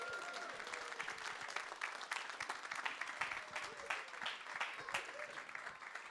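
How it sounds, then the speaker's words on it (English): A church congregation claps warmly for children coming out to the front, a dense, steady crowd applause that holds at an even level throughout, with possible faint talk underneath. "the church will give you a massive round of applause"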